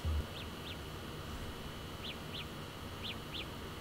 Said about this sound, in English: It's a nice little chirp.